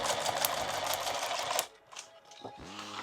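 A sewing machine stitches through a padded OD green war belt, running in a fast, loud, steady burst for about a second and a half before stopping, followed by a few faint handling noises.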